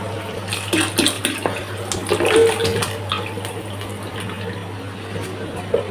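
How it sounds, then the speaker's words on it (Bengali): Water splashing and gurgling as it is poured into a pot of spice-fried beef for khichuri, close and fairly loud, over a steady low hum. "পানি দেব পরিমাণ মতো"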